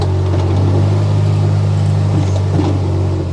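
A 2021 Kubota RTV-X1140 4x4 four-seat utility vehicle with a convertible dump bed backs up, its diesel engine idling in a loud, steady low hum with a faint rattle close by.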